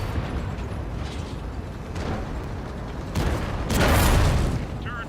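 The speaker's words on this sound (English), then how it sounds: "T95, I believe, is shooting HE into my turret" High-explosive shell from a T95 striking a 60TP tank's turret in World of Tanks, a heavy booming impact rising out of constant rumbling engine and battle noise.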